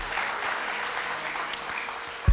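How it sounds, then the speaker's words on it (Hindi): Studio audience on a Ramadan quiz show applauds briefly, a steady burst of clapping with a few sharp accents before a low thump at the end. "बहुत सारी तालियां इनके लिए।"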